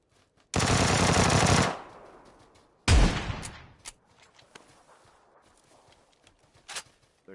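Two loud shotgun blasts from a video game, one long roaring burst and a second sharp shot with a decaying tail, followed by quieter scattered clicks and footsteps.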